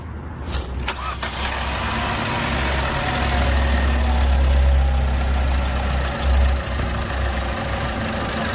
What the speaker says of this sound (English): we'll start this engine up